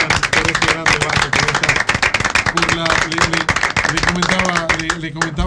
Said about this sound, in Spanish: quiero pedirles a todos que se ofrezcan un fuerte aplauso a ustedes mismos por este gran debate